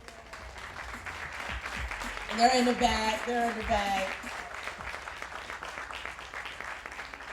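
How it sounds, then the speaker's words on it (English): Audience at a BIPOC farmer conference breaks into applause, a swell of clapping rising and fading over a few seconds while a voice speaks over it. "Please stand to get your applause."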